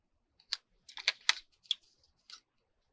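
Scissors snip through paper in a few short, crisp cuts spaced irregularly, close and isolated against near silence.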